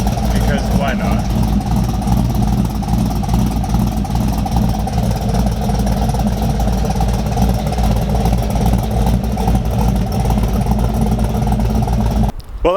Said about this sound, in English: Just one more clip of her idling